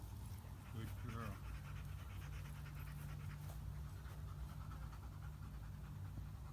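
A dog in basic obedience training pants steadily and rapidly at close range, with a handler's voice heard over the breathing at the start.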